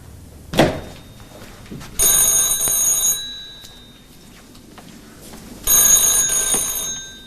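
An old bell telephone in a 1970s British TV drama rings close and loud in two long bursts of metallic jangling, with a heavy thunk just before the first ring and a quiet pause between the two.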